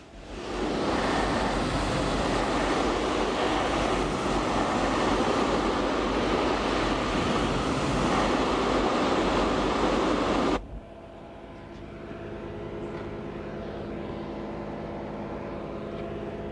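A high pressure hot water spray cleans a golf cart with a loud, continuous hissing rush for about ten seconds, then stops abruptly, leaving a quieter machine hum.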